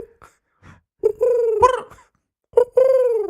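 A person imitates a pigeon's coo using the back of the throat, making two drawn-out, gurgling coos after a few short warm-up sounds, close and clear.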